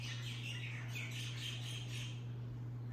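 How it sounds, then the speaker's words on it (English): Birds chirp and tweet outdoors in a steady, fairly faint chorus of high calls over a constant low hum, with no talking. "The birds."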